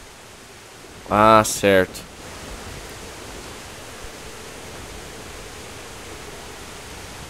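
Steady rushing water in the video game Toren, a soft even wash of flow running throughout, briefly interrupted near the start by a short spoken remark.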